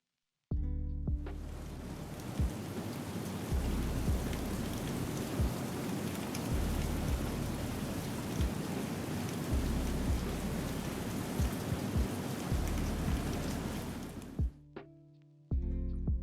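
Steady rain sound effect added in Vegas Pro, a dense even hiss of falling rain with scattered drop impacts and faint low rumbles, fading in at the start and cutting off near the end, with no voices.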